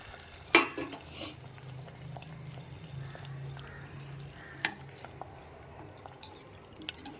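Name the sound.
stirring jaggery water into rava payasam in a pot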